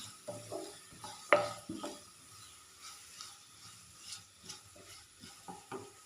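Chopped onions with a pinch of salt sauté in a pan with soft steady sizzling, while a spoon stirs and scrapes now and then, with one sharp clink of metal against the pan.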